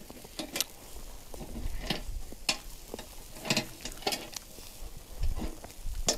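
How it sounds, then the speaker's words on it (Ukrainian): Soft, irregular crackling and popping of shashlik meat sizzling on a wood-fired mangal grill, with scattered sharp spits and faint scraping. "весь аж шкварчить, як шкварка"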